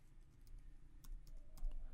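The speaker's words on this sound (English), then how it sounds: "So I just need to type in" Code being typed into a Java program on a computer keyboard, with quick, irregular key clicks close by against a steady low background hum, and nobody speaking.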